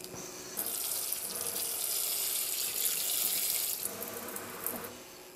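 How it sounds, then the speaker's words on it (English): Steady stream of water running from a sink tap to saturate a seed-starting pot for windowsill herbs, a continuous hiss lasting several seconds with slight changes in tone as the flow hits the soil. "take it over to the sink and make sure we saturate the entire thing with water"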